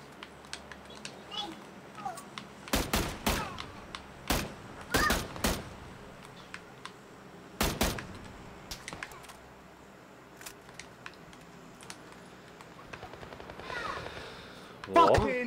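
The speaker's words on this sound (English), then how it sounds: "But they're shooting at you, mate." Gunfire in PUBG on Xbox One: several sharp rifle shots crack out in quick, irregular bursts, some close and loud, others fainter, while players talk over the action.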